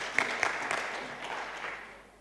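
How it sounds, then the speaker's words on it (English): Church congregation clapping for their leaders at a morning service, a short burst of applause with a few sharp claps standing out at the start before it thins and fades. "Come, let's clap hands for our leaders this morning."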